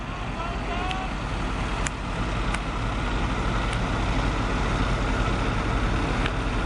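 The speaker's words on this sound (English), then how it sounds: "a pretty serious truck." A large flatbed truck rolls past in roadway traffic, its deep, steady engine rumble blending with the wash of surrounding vehicles. Faint clicks and knocks sound now and then over the constant drone.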